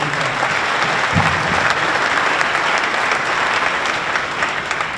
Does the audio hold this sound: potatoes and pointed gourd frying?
no